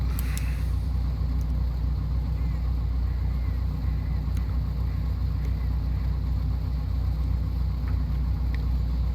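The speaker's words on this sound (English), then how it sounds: "now that we got the engine running," A Cessna engine idles at around 1,000 RPM in a flight simulator game with full scenery, a loud, steady low drone that runs evenly throughout with a few faint clicks.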